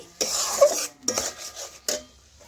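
Spice paste for moong dal with ridge gourd is stir-fried in a pan, with a spatula scraping and clinking against the metal in short bursts and a soft sizzle between them, close by with no talking.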